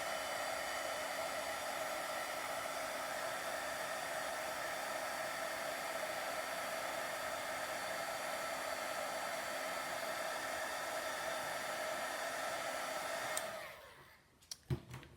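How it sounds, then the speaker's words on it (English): A heat tool blows hot air over card paper in one steady, even whoosh that runs for about thirteen seconds, then cuts off, followed by a few faint clicks and handling noises. "And then I'm going to grab my heat tool."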